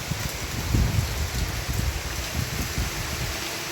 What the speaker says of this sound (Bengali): বৃষ্টিটা কিন্তু খুব হচ্ছে।